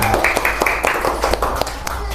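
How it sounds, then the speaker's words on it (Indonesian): A class of schoolchildren claps hands in a quick burst of sharp, close claps, with a voice calling out over them. "Tepuk tangan."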